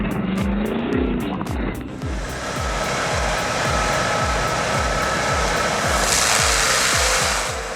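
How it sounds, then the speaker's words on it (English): An HWI M650 forestry mulcher grinding a tree stump: a loud, continuous engine roar with rough, rhythmic thumping from the cutting head that builds into heavier grinding noise. "The HWI M650 didn't just grind it down, it erased it from existence."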